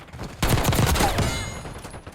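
A short burst of hip-fired gunfire in a first-person shooter video game, loud and close, with a sharp onset followed by a dense rattling spray that tails off into a fading echo.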